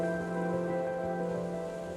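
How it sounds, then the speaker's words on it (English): Misty rain falls near a beach along Ireland's Waterford coast, a soft continuous patter with a constant tonal hum underneath and no talking. "The misty rain won't deter me from heading for the beach"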